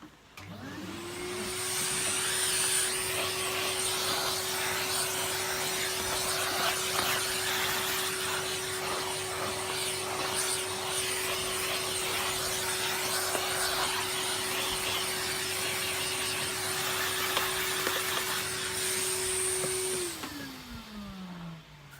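A Kirby Sentria 1 G10 vacuum cleaner spins up quickly, holds a steady loud motor whine for about twenty seconds, then winds down as it switches off, with no voices.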